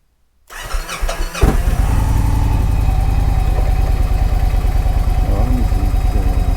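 A Victory Vision Tour motorcycle cranks for a moment, catches, and settles into a loud, close, throbbing idle with a slight rev near the end.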